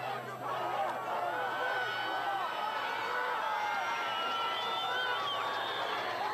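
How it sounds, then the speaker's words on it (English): Palmer high school football fans cheer steadily from the stands below during a night game against CHS, a dense, continuous crowd roar of voices and chatter that stays loud throughout. "You can hear the Palmer fans below us cheering on their offense."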